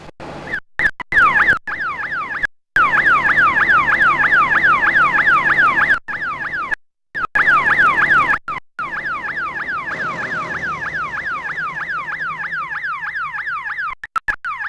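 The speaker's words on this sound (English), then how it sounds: "the siren has stopped and the beacon has stopped flashing" A GASEC toxic gas detection system on a farm sounds its slurry gas alarm, a loud rapidly sweeping electronic siren wailing repeatedly, with a few brief gaps and dropouts before it cuts off near the end.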